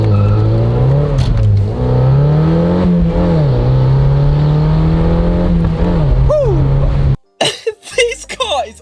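A Mazda MX5's engine hums and surges as the car accelerates on the road, with the pitch rising and falling across gear changes under a person talking, before cutting to quieter speech near the end.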